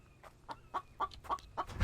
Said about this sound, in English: as there's a chicken, I'm gonna try and get him.